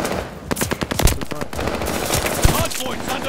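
Rapid bursts of video-game gunfire at a contested hardpoint, with sharp shots in quick irregular volleys and a couple of heavier cracks over a busy, noisy battlefield background.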